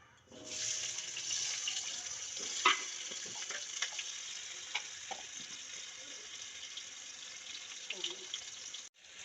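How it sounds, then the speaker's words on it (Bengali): Potatoes frying in hot oil make a loud, continuous sizzle that starts abruptly and holds steady, with scattered pops and light stirring scrapes before cutting off at the end. "প্রথমে আলুটা ভেজে নেব"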